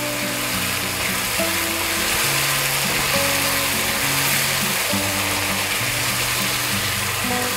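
Steady sizzling and bubbling of chutney boiling in a pan fill the clip continuously, with a low mechanical hum running underneath; no voices.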